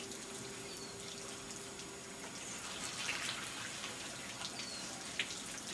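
Water sprays and splashes while a new car is washed, a steady hissing spray with occasional drips and splashes, fairly faint and without talk.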